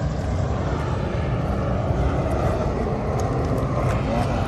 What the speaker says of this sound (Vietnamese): Ấy, máy bay kìa.